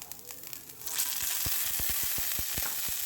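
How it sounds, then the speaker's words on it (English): Steamed broccoli spears hit hot olive oil in a pan, bursting into a loud, steady sizzle with sharp popping crackles, close up, after a quieter start. "Now I'm going to pan sear them."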